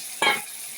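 Dried fish mash, shutki bhorta, frying in a pan as it gets stirred: one short scraping burst of sizzle and stirring, close and brief, over a quiet low hiss.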